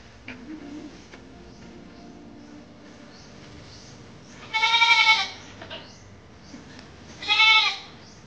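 Goats bleat twice over a quiet farmyard background, one loud wavering bleat near the middle and a second a couple of seconds later, fairly close.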